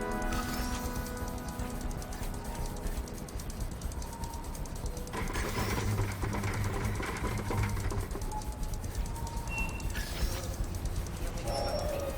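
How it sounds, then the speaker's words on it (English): A pigeon coos in Marvel's Spider-Man Remastered, with a steady city ambience and mechanical whirring running throughout at moderate level. "This pigeon's strong."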